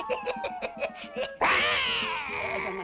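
A cat gives a series of short chirping mews, then one long, loud drawn-out meow.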